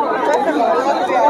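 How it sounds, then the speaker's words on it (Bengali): A dense, continuous roar of many voices from a huge crowd at the Sangam during the Maha Kumbh Mela, loud and close with no single voice standing out. "ভিড়টা দেখেন সঙ্গমে"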